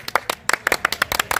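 Several people clap hands in short, uneven bursts at a welcoming ceremony, the claps close and sharp with brief gaps between them.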